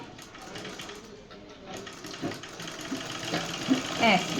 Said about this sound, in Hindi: देखिए इस तरह से सिलाई करनी है मुझे, डबल लेकर के करूँगी।